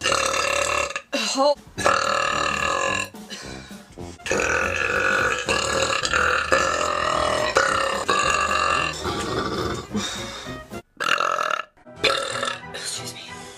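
A girl lets out a series of long, loud, drawn-out burps, one after another with brief pauses between them, close and dominant throughout, with a short spoken exclamation at the start.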